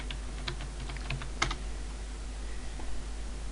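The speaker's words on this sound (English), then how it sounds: "We do this by typing sudo followed by su." Keystrokes on a computer keyboard as a sudo command is entered in an Ubuntu terminal, a handful of light clicks with one sharper press near the middle, close and fairly quiet over a steady low hum.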